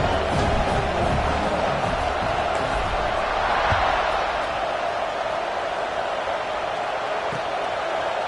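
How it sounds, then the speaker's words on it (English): Large college football stadium crowd at a Nebraska versus Tennessee game, a steady loud roar and buzz of thousands of fans in the fourth quarter after a touchdown, continuous and broad with no clear pauses. "this crowd is buzzing after that last score"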